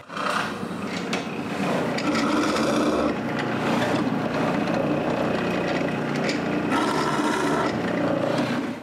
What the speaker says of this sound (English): I have to re-drill the top holes to the size of a screw.